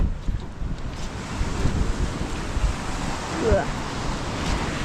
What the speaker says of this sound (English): where the waves are all crashing over the road